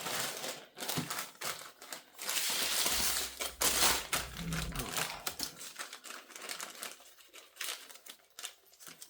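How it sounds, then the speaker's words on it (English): A plastic bag crinkles and rustles in close, busy bursts as pieces of homemade fudge are packed into it, with handling taps and a low thump partway through and no talking. "I'll pop them into the bag."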